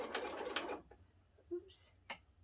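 A sewing machine stitching a quilt block with a quarter-inch seam, a short, close whirring run of rapid stitching that stops, then a few scattered clicks and small mechanical taps.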